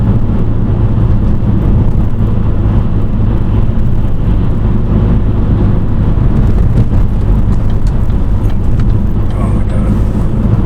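Tuned Ford Focus with a DCT gearbox, driven with gears held manually: a loud, steady engine drone and road roar run throughout, with no gaps.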